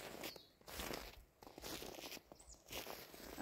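Crunching steps on snow outdoors, a steady run of close, gritty crunches with brief pauses in between and no talking.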